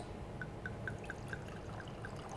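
2017 Tahbilk Marsanne white wine being poured into a glass at a cellar door tasting, a soft steady liquid pour with faint gurgles and a few light clinks, heard close and alone without talk.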